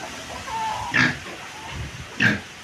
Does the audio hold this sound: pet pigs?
yes